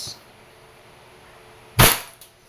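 A WE Allosaurus airsoft gun fires a single sharp, close shot that decays quickly, followed by a faint click, in an otherwise quiet room.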